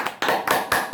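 A church audience at a men's ministry gathering claps in a few sharp, separate bursts, close and moderately loud, with no one speaking.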